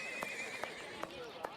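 A horse neighs in the Victorian-era video game Sherlock Holmes: Jack the Ripper, with sharp hoof clops recurring roughly every 0.4 seconds over a steady background hum.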